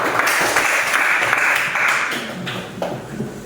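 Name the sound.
applause for classmates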